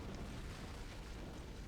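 An antimatter charge explodes in the video game Halo: Combat Evolved as a faint, steady, rumbling roar that holds throughout with no clear onset or voices.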